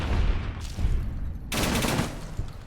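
Rapid bursts of gunfire from a gun in the video game Fallout New Vegas, loud and dense, with a brief lull before a heavier volley resumes.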